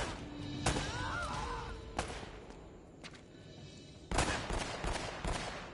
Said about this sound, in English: Elena, I don't know what you're shooting at.